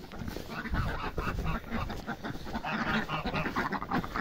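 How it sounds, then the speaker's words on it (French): Indian runner ducks quack and honk around a farmyard at feeding time. The calls are busy and overlapping, at moderate distance, with scuffling and rustling underneath. "on va nourrir les coureurs indiens"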